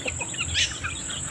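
Chickens cluck softly nearby in a brief, low murmur of calls with a slightly louder cluck in the middle.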